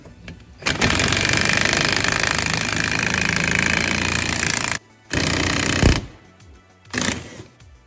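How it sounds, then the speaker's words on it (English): An impact wrench drives a small cap to press a new wheel bearing into a 2015 Polaris Ranger 900 XP, hammering loudly and continuously for about four seconds, then in two shorter bursts with brief pauses between. "You don't necessarily have to use an impact. You can use a wrench. The impact definitely makes it faster."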